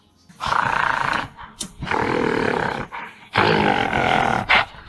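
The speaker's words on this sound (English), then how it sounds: "a low growl could be heard" A low, throaty growl from an unseen creature in the woods comes in three long, loud rumbling bursts with short gaps between them, close and alone with no talk over it.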